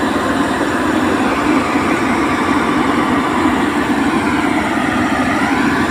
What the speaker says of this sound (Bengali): খোয়াই ব্রিজের উপরে ট্রেনটি পড়ে আছে।